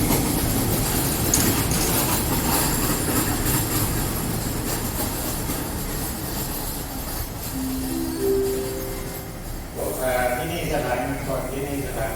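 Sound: train passing

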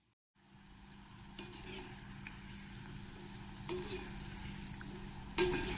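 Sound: chirote frying in hot oil on low flame

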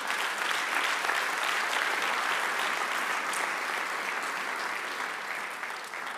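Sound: applause

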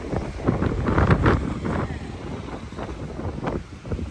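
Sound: strong storm wind at the sea

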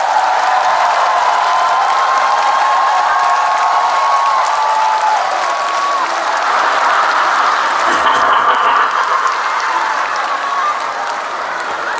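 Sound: concert audience applause

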